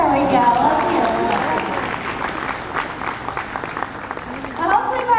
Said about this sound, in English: Listen to all of you just continuously clapping over there.